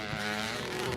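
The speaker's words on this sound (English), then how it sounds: "That thing, boy, that is one loud 4-stroke. That Yoshimura exhaust on that, putting out pure sound of thunder." A loud 4-stroke motocross bike with a Yoshimura exhaust roars around a race track, giving off a dense, steady engine drone with a strong harmonic tone that holds throughout the brief moment.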